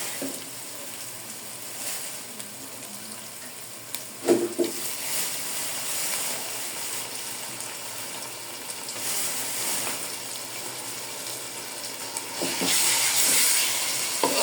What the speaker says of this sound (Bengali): আদা রসুনের পেস্টটা আমি ভালো করে ভেজে নিব